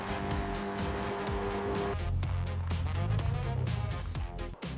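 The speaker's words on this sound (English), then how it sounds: "A yellow convertible speeds down a desert highway as Yoshi sits openly in the back." A yellow convertible sports car speeds down a desert highway, its engine droning loud and steady with a sustained rising tone, ending in a brief sharp dip.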